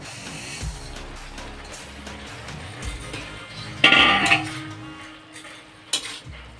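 Store-bought vermicelli (semai) is dropped into a pot of boiled coconut and nuts for jhura semai, bringing a sudden loud rustling clatter midway, with scattered utensil knocks on the pot before and after.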